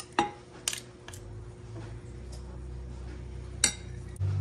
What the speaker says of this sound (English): let me get a fork or a spoon. I'm gonna scrape that goodness off